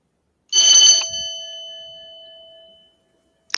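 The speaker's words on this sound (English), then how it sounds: "The Dead Bell, paranormal spirit detector." A Dead Bell paranormal spirit detector gives a single loud bell strike, a bright metallic ring that decays slowly over about two seconds, with no voices.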